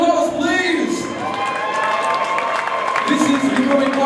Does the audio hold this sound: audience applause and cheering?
yes